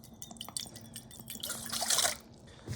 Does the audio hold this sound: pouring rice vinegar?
yes